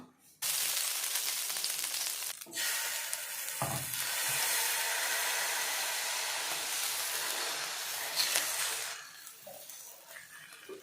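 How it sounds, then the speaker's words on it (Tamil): Ragi dosa batter poured onto a hot pan sets off a loud, sustained sizzle right after a sharp onset, holding steady with a few brief scrapes before easing down toward the end. "இப்போ நாம் ராகி தோசை ஊற்றிக்கலாம்"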